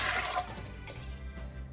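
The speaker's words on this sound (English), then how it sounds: "So we're putting 4 cups of water in here." Four cups of water poured into a pot while making pickled beets, a short, close rush of splashing liquid that is loudest at the start and settles into a lower gurgle.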